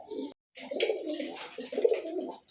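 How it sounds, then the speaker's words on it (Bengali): A Pakistani Babra pigeon coos nearby in a few throaty, rolling bursts separated by short pauses, with faint background noise and no clear talk. "দেখছেন কবুতরটা ডাক দেখেন"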